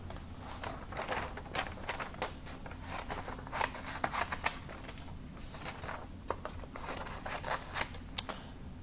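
Paper card stock for a handmade mixed media gratitude postcard is cut with scissors, giving a run of close, quiet snips and crisp paper rustles over several seconds.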